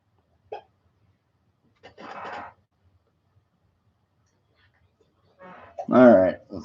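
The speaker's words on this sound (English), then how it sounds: "you can hear you got the hiccups" Several short hiccups from a person, sharp isolated bursts separated by long silent gaps, close to the microphone, with a voice briefly heard at the end.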